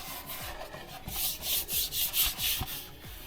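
Hand scuffing of paint on a Mitsubishi Eclipse car door jamb, a run of about eight rhythmic rubbing strokes, close and moderately loud, with no talking.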